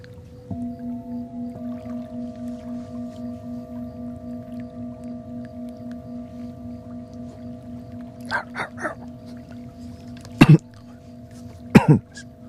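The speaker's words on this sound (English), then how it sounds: "I was clearing my throat." Several short throat-clearing bursts from a person sit over a steady droning tone of sound-healing music at bedtime, with a quick cluster near the middle and two sharper rasps toward the end, close and fairly quiet.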